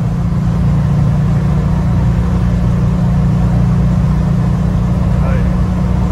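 A Volkswagen Kombi cruising at highway speed, its engine giving a loud, steady low drone with constant road and wind roar, while people talk over it inside the van.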